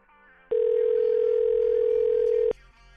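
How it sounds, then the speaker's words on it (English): A single steady telephone tone sounds during a call attempt, loud and constant for about two seconds and then stopping abruptly, with faint room noise around it. "Let's try Brittany again, see if that dumb fucking kid of hers has let go of the phone."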